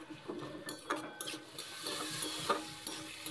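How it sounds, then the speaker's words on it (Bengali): Ground-spice paste with a splash of water being stirred and fried in a pan for a Bengali vegetable curry of beans, potatoes and carrots, giving quiet sizzling under repeated scrapes and clinks of a spoon, with no talking. "যেহেতু গুঁড়ো মশলা দিয়েছি তাই সামান্য একটু জল দিয়ে তারপরে মশলাটা কষিয়ে নিচ্ছি"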